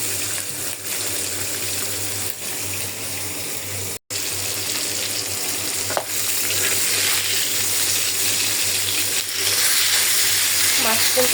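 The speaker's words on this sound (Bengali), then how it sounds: "এবার আমি মাছ ভাজা বসাই দিলাম" Fish frying in oil in a kadai in a home kitchen, a steady hiss and sizzle running throughout with an occasional sharp clatter, and nobody talking.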